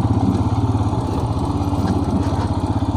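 Motorcycle engine droning steadily at close range as the bike is ridden along a road near a river and bridge, a constant throbbing hum with no talk.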